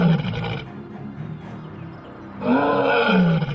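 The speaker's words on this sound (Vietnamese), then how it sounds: "Đàn trâu rừng hỗn loạn, những tiếng gầm và tiếng bước chân dồn dập vang khắp không gian" Lions roaring during an attack on a buffalo herd on the savanna, a loud deep roar that fades to a rumbling growl, then a second strong roaring burst, close and with no talk.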